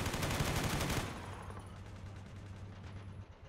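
An armored vehicle's main gun fires in the Blue Dawn mod of a combat video game, a loud close blast with rapid crackling reports that fade into a lingering rumble and echo.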